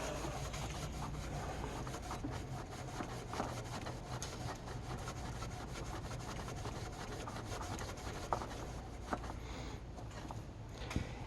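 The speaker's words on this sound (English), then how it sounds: "you can use a piece of Scotch-Brite, okay?" A Scotch-Brite pad scrubs an engine gasket surface clean, a continuous dry rubbing and scouring with uneven strokes, close and fairly quiet, with a few sharper scrapes near the end.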